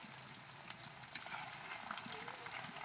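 Bitter gourd pieces fry in hot oil, a soft steady sizzle that stays quiet and even throughout, with no one talking.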